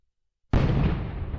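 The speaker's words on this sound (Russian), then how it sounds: "Сейчас производит у нас выстрел." After a moment of silence, a single loud gunshot from a Remington 1858 revolver in the game World of Guns bursts out, close and sharp, followed by a rumbling tail that keeps sounding to the end.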